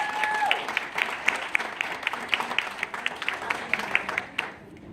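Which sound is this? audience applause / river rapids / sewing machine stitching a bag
audience applause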